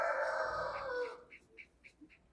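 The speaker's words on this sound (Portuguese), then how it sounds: "As galinhas cantando." Chickens and a rooster call from nearby, a long loud crowing-like cry in the first second followed by several short, fainter clucks spaced evenly, with no talk.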